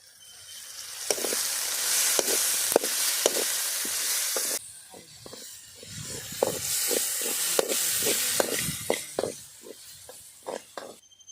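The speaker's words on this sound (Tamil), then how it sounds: "வெங்காய தக்காளியெல்லாம் வதங்கிட்டு மஞ்சத்தூள் போடுறேன்" Onions and tomatoes sauté in a home-kitchen pan with a steady close sizzle, broken by repeated sharp scrapes and knocks of a stirring spoon; the sizzle briefly quiets midway and then swells again.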